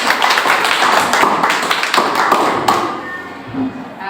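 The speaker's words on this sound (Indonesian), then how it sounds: "Kelompok 1, 2, dan 3, tepuk tangan untuk kita semua." A classroom of students applauds the presenting groups. Dense, loud clapping fills the room and fades toward the end.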